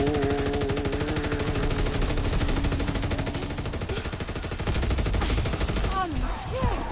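A BAR automatic rifle fires in Call of Duty WW2 as rapid, continuous bursts of loud gunfire, with a voice talking over the shooting.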